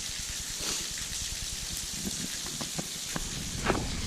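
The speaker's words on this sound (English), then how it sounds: "And then we have a little waterfall over here. This is Penitentiary Hollow Falls. It's a trickle today." Penitentiary Hollow Falls, a small waterfall, trickles softly, a steady wash of running water with scattered light drips and splashes.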